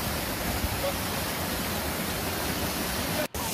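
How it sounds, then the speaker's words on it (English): A waterfall on a hiking trail near Lake Louise roars as a steady, dense broadband rush close by, with one brief dropout near the end. "Oh wow, what a lovely waterfall."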